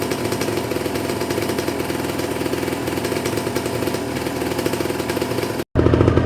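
A Kawasaki Ninja 150 RR two-stroke motorcycle engine warms up with the choke on and revs above 2000 RPM. It makes a loud, continuous, buzzy roar up close, broken by a brief cut near the end before it resumes.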